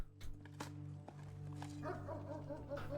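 In the video game Blue Prince, a dog gives a handful of short barks and yips against a constant low musical drone, soft and mid-distance, with brief vocal sounds mixed in.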